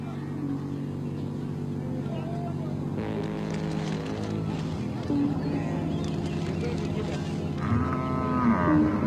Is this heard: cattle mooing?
yes